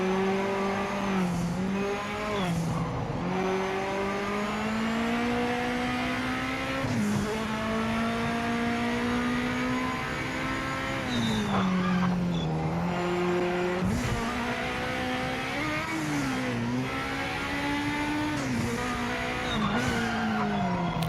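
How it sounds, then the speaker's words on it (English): A race car in the game Project Motor Racing revs hard and loud, its engine note climbing and dropping through repeated gear changes, with squealing tires mixed into the continuous near roar. "I think this car sounds amazing."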